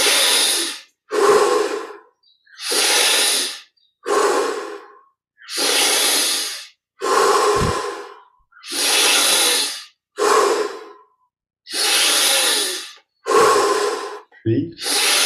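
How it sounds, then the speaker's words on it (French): Deep, deliberate breaths during guided meditation, about ten long forceful airy inhales and exhales in a steady rhythm, each separated by brief silence, close and alone. "Progressivement, on augmente l'amplitude de chaque inspire et de chaque expire."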